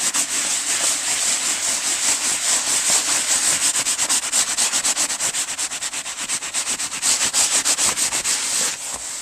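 Hand rubbing Hawaiian kapa bark cloth, a steady close brushing scrape in quick rhythmic strokes, continuous and fairly loud with no talk.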